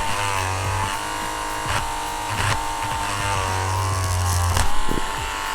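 A Dremel rotary tool buzzing steadily up close while working on a custom Blythe doll, a continuous high whine with a low hum underneath and brief clicks and bumps as it touches the doll.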